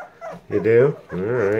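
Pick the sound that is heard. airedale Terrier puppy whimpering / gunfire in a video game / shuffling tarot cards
airedale Terrier puppy whimpering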